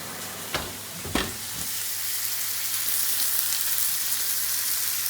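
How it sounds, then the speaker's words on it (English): Steady broadband sizzle of steak frying in a hot pan, with a couple of sharp clatters near the start, then continuous crackling hiss. "So just watch that frying."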